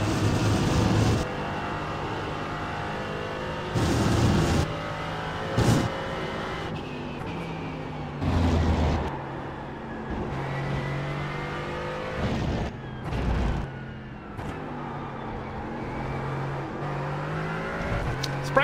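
Race car engines from a racing video game featuring LMP3 prototypes, a steady droning engine note with repeated louder revving surges and shifts as cars accelerate and pass, continuous throughout with no talk.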